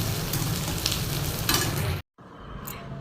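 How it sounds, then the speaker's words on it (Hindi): Onions frying in a pan, a steady close sizzle with stirring clatter that cuts off abruptly near the end and then resumes more quietly. "और इधर प्याज भून रही है"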